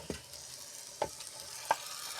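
Mutton pieces hit hot oil and ground chilli in a clay pot over a wood fire, giving a steady close sizzle broken by three sharp clunks of stirring against the pot.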